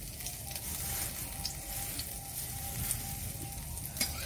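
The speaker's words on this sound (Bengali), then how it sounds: "বড়াগুলি এক সাইড ফ্রাই হয়ে এসেছে।" Egg and pumpkin flower fritters fry in hot oil, giving a continuous crackling sizzle with occasional faint spatters and stirring, steady and close with no voices.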